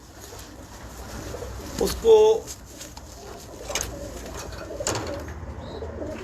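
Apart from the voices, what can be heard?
breeding pigeon cooing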